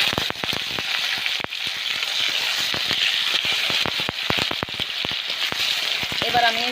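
Bay leaf, nigella seeds, green chillies and tomato fry in hot oil in a kadai wok, giving a steady bright sizzle studded with frequent sharp crackles and pops, close and continuous.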